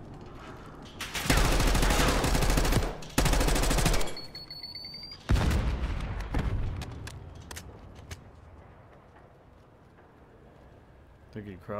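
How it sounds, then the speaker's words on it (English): Automatic gunfire crackles through Black Ops 6 Search and Destroy matches in loud bursts of a second or two, followed by scattered shots and game effects as players talk over the action. "Bolt's shooting."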